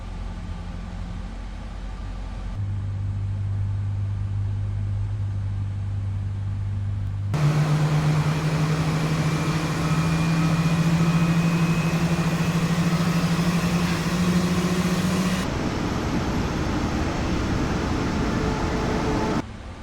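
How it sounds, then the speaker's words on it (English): Boeing 777-F engine 2 starting in Microsoft Flight Simulator, heard over the running first engine: a low steady drone joined by a loud broadband roar and a slowly rising whine as it spools up, then settling, with no talk. "Starting engine 2."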